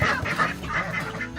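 A small group of homestead ducks quack and honk close by as they are herded in for the night, a quick run of overlapping calls.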